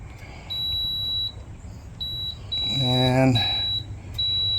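Air fryer control panel being set to sauté, giving a few short, high electronic beeps in a row; a person speaks over them at close range outdoors.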